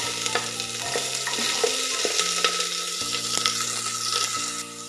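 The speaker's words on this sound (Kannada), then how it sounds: "ನೋಡಿ, ಈರುಳ್ಳಿ ಸ್ವಲ್ಪ ಎಣ್ಣೆಯಲ್ಲಿ ಫ್ರೈ ಆಗಿದೆ" Onion fries in oil with garlic and mustard seeds, a constant close sizzle broken by spoon scrapes and stirs over a faint steady tonal hum.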